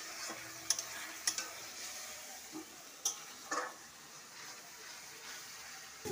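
Ground tomato paste and potatoes sauté in a pan for chicken do piaza, a faint low sizzle with a handful of soft, irregular taps and scrapes from stirring.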